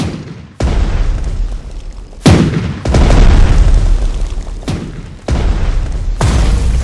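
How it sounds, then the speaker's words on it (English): Repeated heavy booms and blasts from tanks attacking together in the Panzer Strategy World War II Battle of France PC game, several loud explosions with sharp onsets and long rumbling tails, nearly continuous with no talk. "All the tanks are attacking the enemy simultaneously"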